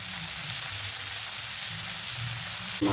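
Giant freshwater prawns fry in oil, giving a soft, even sizzle at a moderate distance. A brief clatter comes right at the end, and no one speaks.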